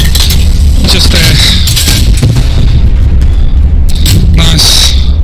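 A tank cannon fires in the WWII video game Hell Let Loose, with loud booming blasts over constant rumbling battle noise and engine drone, two sharp bright bursts standing out near the start and again toward the end.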